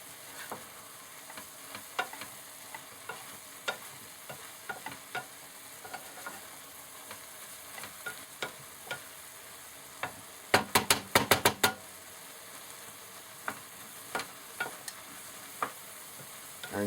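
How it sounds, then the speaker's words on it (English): Noodles frying in a pan with the lid off and water boiling away, a steady low sizzle punctuated by frequent sharp clicks and scraping stirs, with a dense burst of clatter around the middle. "fry the noodles."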